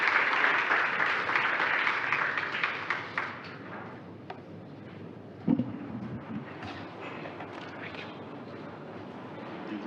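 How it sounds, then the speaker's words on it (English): A panel discussion audience claps in a fairly dense burst that fades over the first few seconds, leaving quieter room sounds, a thump and a few scattered claps. "Please give him a big, big hand clap as he comes."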